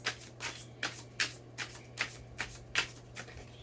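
Tarot cards are riffled and shuffled by hand in eight or nine quick, evenly spaced bursts, close and fairly quiet, with no talking.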